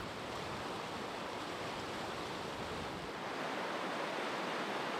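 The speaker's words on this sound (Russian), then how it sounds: "она то грохочет меж камней и валунов, то спокойно струится по пологим участкам" The Katun river rushes over stones and boulders as a steady, dense, broadband roar that continues without a break, loud and close, with no voices.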